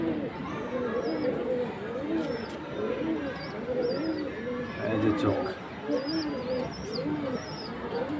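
Domestic pigeons, including black ones, coo in soft repeated low rolling calls close by, with faint chirps above and someone speaking briefly among them.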